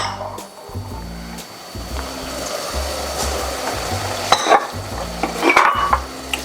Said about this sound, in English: the ground beef is starting to brown as well